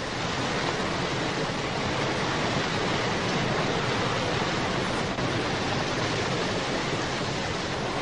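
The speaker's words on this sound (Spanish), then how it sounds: "el flujo de miles de metros cúbicos de agua es lo que crea la electricidad" Powerful rushing water pouring through a hydroelectric plant, a dense, steady roar of broadband noise holding constant at close range, with no voices.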